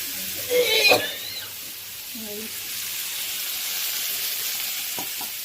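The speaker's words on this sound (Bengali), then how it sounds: "পেঁয়াজটা একটু নেড়ে নেড়ে টমেটো দিলাম" Chopped onion and tomato with green chilli frying in oil in a pan, a steady hiss and sizzle with a few scraping stirs and brief clatter near the start.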